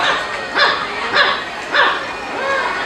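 A parrot at a bird show mimics a dog barking: three sharp bark-like calls spaced evenly, followed by a softer whine-like note, all fairly close.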